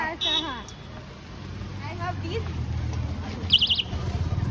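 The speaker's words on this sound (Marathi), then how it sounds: "अरे ये तो एकदम चिमणी वाला आवाज आहे रे" A short chirpy electronic alert tone, bright and bird-like, sounds briefly near the end over traffic rumble and people talking.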